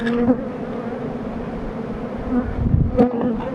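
Honeybees at an open hive during a beekeeping session, a dense continuous buzz close by with individual bees droning past, plus a few brief knocks of handling near the end.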